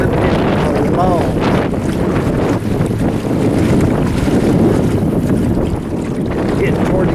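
Heavy wind roars across a microphone aboard a sailboat moving quickly over water, with a constant loud buffeting rush and splashing underneath.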